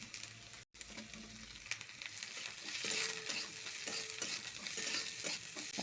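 Chopped onion and green chili stir-fried in a pan for veg noodles: a soft, even sizzle with intermittent scraping stirs, fairly quiet, after a brief cut near the start.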